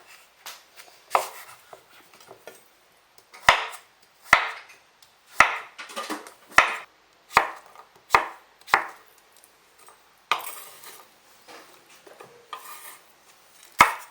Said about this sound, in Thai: เสร็จแล้วก็หั่นบวบค่ะ